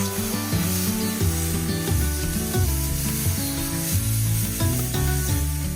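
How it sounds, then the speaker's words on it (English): Water is sprayed over straw laid on cardboard in a garden bed, a soft hissing spray beneath louder low, tonal sounds that run throughout. "I'm going to spray it down one more time."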